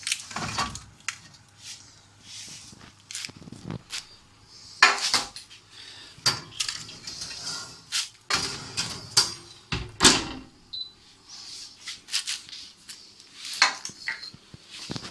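Clattering metallic bangs and scrapes as a baked sourdough loaf is lifted out of a home oven, several sharp knocks of tray and door against a quiet room.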